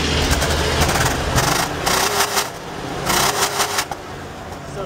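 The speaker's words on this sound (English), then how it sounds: "now give us a good rev" A car fitted with a bolt-on aftermarket exhaust tip revs up loudly and close by, with the engine surging in several bursts over a steady rumbling idle.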